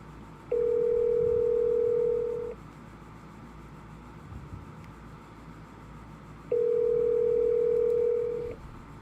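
Outgoing telephone ringback on a sales call: two long, loud, steady tones about two seconds each, separated by a roughly four-second gap of quiet line hiss.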